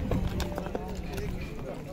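A horse's hooves clip-clop on the ground at the Sokuluk horse market in Chüy, Kyrgyzstan, close and uneven amid market noise, with people talking over the steps.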